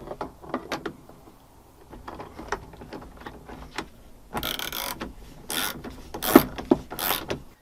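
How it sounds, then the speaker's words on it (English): A screw is driven into a part on a 1999 Mitsubishi Montero, with a series of quiet ratcheting clicks followed by louder bursts of scraping and rattling tool noise close by. "We'll screw in this screw."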